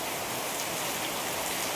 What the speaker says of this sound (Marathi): काय पाऊस पडतो बघा